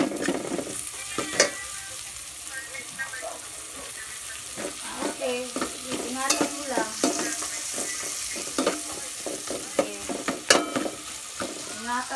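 Garlic and red onion fry in a pan with a constant sizzle, while repeated scraping and clattering stirring strokes sound close and fairly loud over it.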